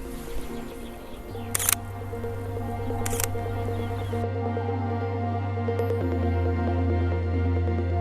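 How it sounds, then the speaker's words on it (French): Two crisp shutter clicks from a single-lens reflex camera photographing cows in a Charolais pasture, quiet and close against a low steady hum in the background. "Je vais faire une première photo pour voir."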